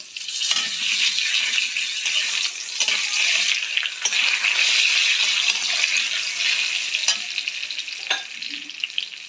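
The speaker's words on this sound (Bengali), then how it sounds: "জিরে, গোটা গরম মশলা সব আমি ফোড়নের মধ্যে দিয়ে দিলাম।" Cumin, whole garam masala and a bay leaf hit hot oil, giving a loud, continuous close sizzle with scattered spits and stirring clatter, strongest mid-way and easing slightly at the end.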